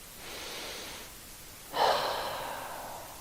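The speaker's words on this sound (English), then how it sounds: "we're going to take 5 breaths here" Slow breathing during a yoga fish pose: a soft, drawn-out inhale followed by a louder, breathy exhale, close and quiet with no talking.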